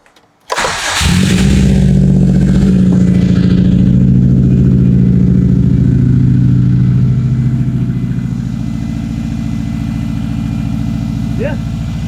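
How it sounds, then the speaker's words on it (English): A 2003 Subaru WRX engine cranks and catches, then settles into a steady, loud, rumbling idle that carries on for several seconds, with a voice briefly audible over it. "Just to play it safe, let me go ahead and turn on the car"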